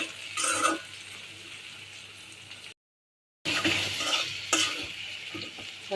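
Okra fries in a pan while being stirred, giving close scraping strokes over a soft continuous sizzle; the sound cuts to silence briefly midway, then the stirring and frying resume.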